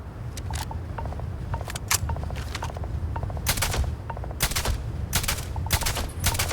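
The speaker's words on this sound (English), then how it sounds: "Thinking I'm gonna have to use my big bang shotgun." Rapid bursts of gunfire from a shotgun in the video game Starfield, with many sharp shots in quick uneven clusters over a low steady background rumble.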